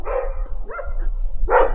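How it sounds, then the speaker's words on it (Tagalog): Dogs barking outdoors in a neighborhood, three loud barks spaced across a couple of seconds, close and clear, no talking. "Ingay ng mga aso oh."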